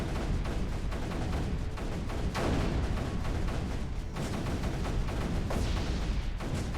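Cannons firing in a base-defense video game, a dense, continuous barrage of booming shots layered over one another, loud and close with no pauses.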